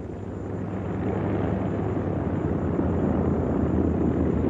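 B-25 Mitchell bombers from a late-production batch rolling down the runway on takeoff, a loud steady piston-engine and propeller roar that swells slightly and holds, with no voices.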